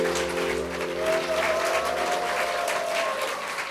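Church audience applauding after a choir performance at a pastor's lecture, a dense continuous wash of clapping with a faint sustained musical tone underneath, fairly near and steady.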